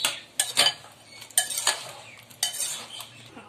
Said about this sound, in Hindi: ये देखिए मैं खूब इसको अच्छे से पहले मिक्स करूंगी